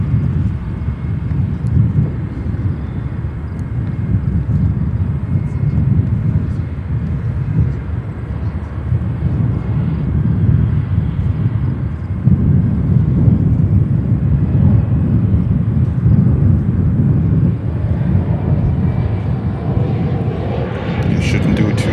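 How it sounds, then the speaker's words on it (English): A United Express Embraer 175 jet coming in to land at O'Hare, a steady broad engine roar that swells slightly toward the end, with a voice talking over it. "That is an Embraer 175. What a surprise, from United Express, flight 5893"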